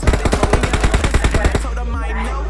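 Rapid automatic gunfire in the video game PUBG Mobile, a loud burst of about twenty shots in a steady rhythm lasting over a second, then cutting off into a softer fading tail.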